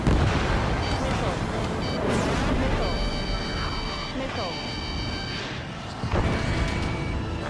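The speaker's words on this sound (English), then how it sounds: "Missile away." A missile fired from an F-15 S/MTD fighter jet in the Ace Combat 7 video game, a sustained rushing roar with sharp bursts near two and six seconds, layered over dense, continuous battle noise.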